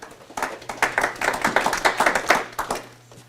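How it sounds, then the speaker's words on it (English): An audience claps in a South Lake Tahoe city council meeting room, a dense burst of applause from several people that swells and then tapers off over a few seconds, with a low steady hum underneath. "Please don't clap."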